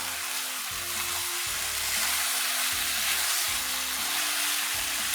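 Dry coriander and white cumin powder stirred into a sizzling turnip and chickpea curry in a pan, steady frying hiss with repeated scraping strokes of the spoon about every half second, close and clear with no talking.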